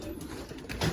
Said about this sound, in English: I'm gonna show you my young birds